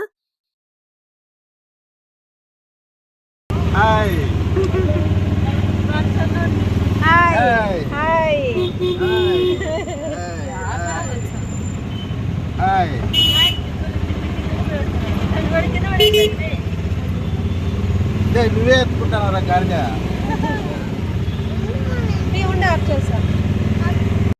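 An auto rickshaw engine drones steadily through a ride, a low continuous hum running under near, ongoing conversation after a few seconds of silence at the start.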